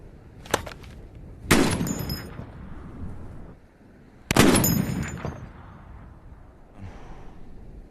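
Sniper rifle fire during a sniper battle in the film The Hurt Locker: a faint early crack, then two loud, close shots, each followed by a rolling echo and a quieter tail.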